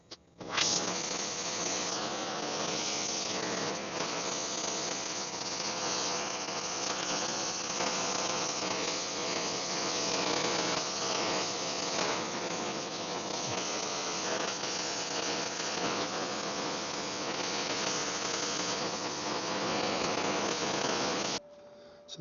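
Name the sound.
torch heating metal for bending on a sculpture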